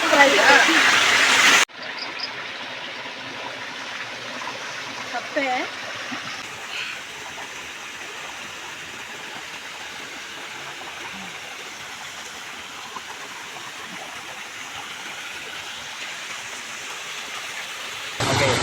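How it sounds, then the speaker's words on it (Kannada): A stream flowing steadily past people standing with their feet in the water near the Yana caves on the way to Gokarna, a soft, even rush that is loud at first and then settles under voices talking. "ಸ್ಟ್ರೀಮ್ ಬರುತ್ತೆ ಇಲ್ಲಿ ನಾವೆಲ್ಲರೂ ಕಾಲು ಇಟ್ಕೊಂಡಿದ್ದೀವಿ ನೀರಲ್ಲಿ"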